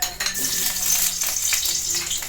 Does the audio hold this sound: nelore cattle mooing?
no